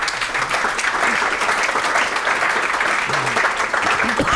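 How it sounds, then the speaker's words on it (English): Conference audience applauding at a panel session, a dense, steady wash of clapping from many hands, loud and continuous throughout with no pauses. "Maybe that's worth a short applause"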